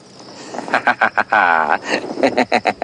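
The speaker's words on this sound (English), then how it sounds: "some beautiful frog calls" Frogs calling at night in an African game reserve, loud close rhythmic pulsed croaks in quick repeated bursts with a longer trilling call in the middle.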